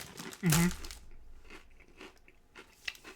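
A loud crunchy bite into ridged crisps comes first, followed by softer chewing and crunching that fades over the next couple of seconds, close to the mouth with no talk.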